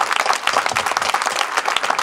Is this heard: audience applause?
yes